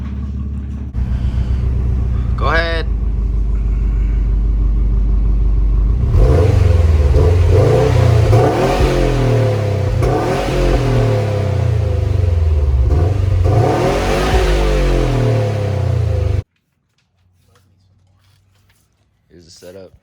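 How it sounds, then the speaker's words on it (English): A 2018 Subaru STI with its stock exhaust cranks and starts, then revs repeatedly through a loud, close rumbling idle, with people talking briefly before the engine cuts off abruptly near the end. "start the car and show us how it sounds stock right now."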